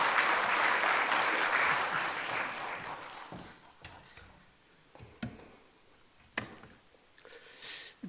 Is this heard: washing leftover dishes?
no